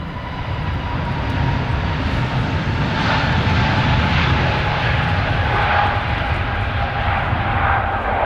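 A loud, steady roar of an Airbus A321neo's jet engines builds and holds during takeoff at London Stansted Airport, broad and rushing, with no voices over it.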